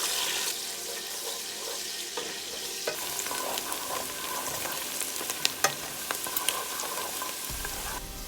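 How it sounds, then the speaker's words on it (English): Onion and garlic stir fry in a pot in a steady, close sizzle, with occasional sharp scrapes and knocks from stirring, and no voices. "we're gonna stir fry our onion and the garlic until they are golden brown"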